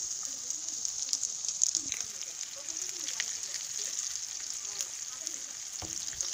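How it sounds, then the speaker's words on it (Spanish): Chicken breasts frying in oil in a pan, a steady close sizzle with a bright crackling hiss and occasional pops throughout. "Lo primero que vamos a hacer va a ser freír nuestras pechuguitas así bien rico."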